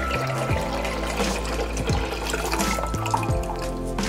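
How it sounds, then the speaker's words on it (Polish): A litre of cold water pours from a tap into a pot holding half a kilo of rinsed broad beans, a continuous splashing rush with the pitch rising as the pot fills, close and steady without speech. "Bób zalewam litrem zimnej wody."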